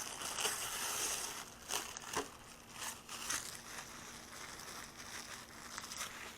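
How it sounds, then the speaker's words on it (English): Protective plastic film is peeled off an Arrma Big Rock V3 RC truck body, giving close crinkling and tearing bursts in several uneven pulls, fairly quiet with short pauses between. "But I did wait to peel this plastic off."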